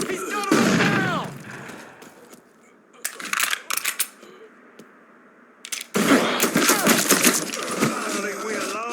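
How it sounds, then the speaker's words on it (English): Grenade explosion and gunfire in the Mafia III game: sharp percussive bursts and booms come in clusters separated by quieter gaps, with shouting voices mixed in. "Throwing grenade! He's got him down!"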